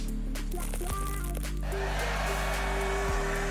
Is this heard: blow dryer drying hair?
yes